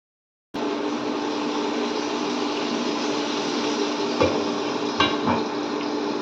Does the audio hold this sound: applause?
no